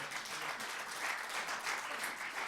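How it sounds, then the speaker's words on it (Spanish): Church congregation applauding during a sermon, a sustained round of fairly distant clapping with a faint voice mixed in beneath it. "Den ofrenda de palmas al Señor."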